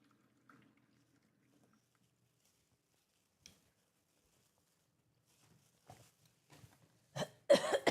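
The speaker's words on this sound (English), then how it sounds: "Let me drink some water because I'm coughing so much." Near silence with a few faint rustles gives way to a close, loud fit of coughing at the end.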